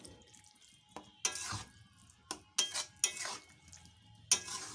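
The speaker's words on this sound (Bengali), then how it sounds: "আমি এবার ভালোভাবে সবকটাকে মিশিয়ে নিচ্ছি" A spoon stirs beaten sour yogurt into cholar dal in a metal pan, giving a series of irregular scraping and clinking strokes against the pan, spaced apart with quiet gaps between them.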